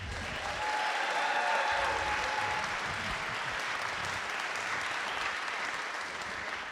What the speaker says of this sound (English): you present a cake to a theater full of people and they applaud you for it